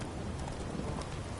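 Hooves of a galloping horse in the rain in the video game Witcher 3, a dense, steady drumming blended with rainfall and no talking.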